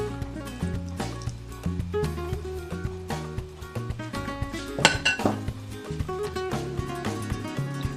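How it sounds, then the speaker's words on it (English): Hot boiled potatoes being mixed with lemon juice for potato salad: a utensil scrapes and clinks repeatedly against a bowl with soft wet stirring, close and irregular, no voices. "Pour the lemon juice onto the potatoes while still hot and mix gently."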